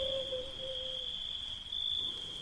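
Crickets chirp without a break near a bamboo grove at night. A faint, steady, high-pitched drone holds throughout with no voices.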